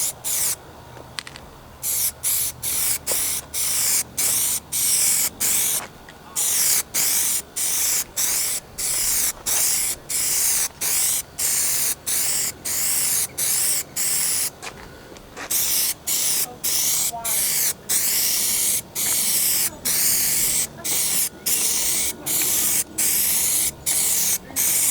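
Plasti Dip rubber coating sprayed from an aerosol can onto car parts, heard as a long series of sharp, close hissing bursts separated by brief pauses.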